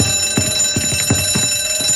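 An alarm bell rings inside a mansion in Mafia Definitive Edition, a rapid, steady metallic clatter with evenly spaced strikes that continues without a break over a constant background hum.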